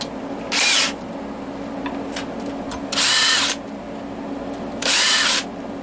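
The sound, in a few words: power drill countersinking a hole in wood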